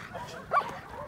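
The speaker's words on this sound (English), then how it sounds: "We try and get the bark." A dog bred from IPO working lines gives a single sharp bark during protection-style training, a short loud burst over a steady low background with faint voices nearby.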